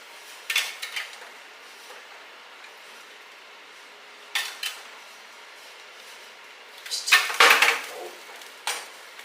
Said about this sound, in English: We're getting lids and rings ready.